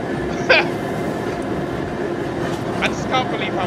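London Underground train running, a steady rumbling roar of the carriages with a few sharp metallic squeals and clicks from the wheels, close and loud.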